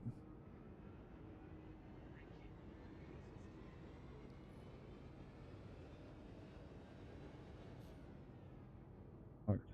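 Carrack spaceship in the Star Citizen video game lifting off, a steady broad engine roar and rumble holding level throughout, with a brief thump near the end.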